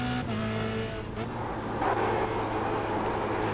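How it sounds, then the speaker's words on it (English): Formula Renault 2.0 race cars in a racing video game brake hard into the Zandvoort chicane, a steady engine drone with a brief tyre scrub, loud and continuous throughout. "Now it's hard braking into the chicane."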